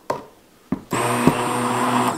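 A food processor pulses pumpkin puree in short bursts: two brief whirring pulses with quiet gaps between them, then a longer steady loud blending run, close up.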